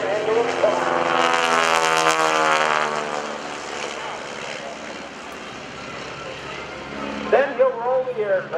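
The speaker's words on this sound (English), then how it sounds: "Then he'll roll the aircraft with 2 points upside down." A propeller aerobatic airplane flying a reverse Cuban 8 at the 2011 AirPower Over Hampton Roads airshow, its engine droning loud and steady as the pitch sweeps and shifts, with an announcer talking over it.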